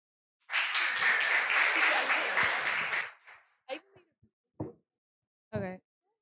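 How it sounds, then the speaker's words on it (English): Audience applause for a speaker at a student event, a dense burst of clapping lasting about two and a half seconds before fading, followed by a few brief scattered sounds and short voice fragments. "now we can give an applause to Jade Soto"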